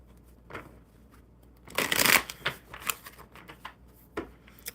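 Tarot cards shuffled close by in quick riffling bursts, with one dense flurry in the middle and a few lighter flicks and taps after, no talking.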